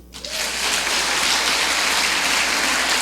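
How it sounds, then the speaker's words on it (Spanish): Applause from a church congregation swells quickly after a brief quiet start and holds as a dense, steady wash of clapping for about three seconds. "Denle un aplauso a Dios."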